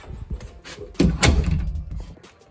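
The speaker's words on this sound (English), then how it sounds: "You can use it to shut a door." A door is shut by pushing it with a LEGO baseplate, giving a few faint knocks followed by a loud, close thud as it closes.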